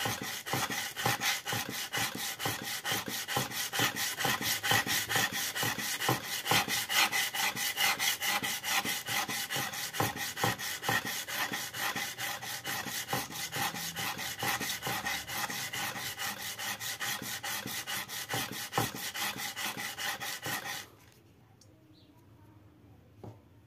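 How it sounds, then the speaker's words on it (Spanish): A wood chisel is sharpened on a wet stone with rapid, rhythmic scraping strokes, close and steady for about twenty seconds before stopping abruptly. "Humedecemos, colocamos nuestro formón, hacemos presión con nuestro dedo hacia abajo"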